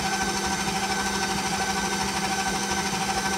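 An electric mixer beats cheesecake batter for a New York cheesecake, whirring in a steady, even, motorized buzz that stays close and unchanging throughout.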